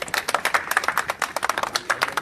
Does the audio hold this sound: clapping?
yes